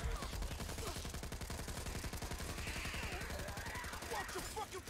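Sustained automatic gunfire in the Back 4 Blood video game, a fast even stream of close shots lasting several seconds, with faint voices and game sounds underneath.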